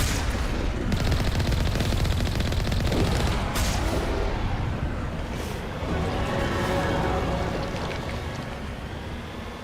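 Sustained gunfire in Mass Effect crackles in rapid bursts over a droning, rumbling game backdrop, loud and continuous, with a voice speaking over it.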